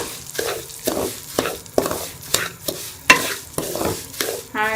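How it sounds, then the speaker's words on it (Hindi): Ground moong dal roasting in a pan, stirred in quick rhythmic strokes that give repeated scraping bursts about every half second over a low sizzle, close up with no talking. "ये मूंग दाल का जो हम पीसा था ये हम डालेंगे और इसको अच्छी तरह से भून लेंगे कलर चेंज होने तक"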